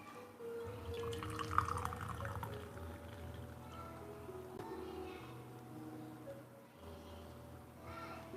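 Lapsang Souchong black tea infusion is poured from a small teapot, a quiet trickling and dripping of liquid heard close up against a faint low room hum.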